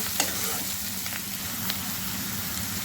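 Onions sizzle steadily in a hot pan while being cooked down for saag, a dense continuous hiss with a couple of faint stirring clicks.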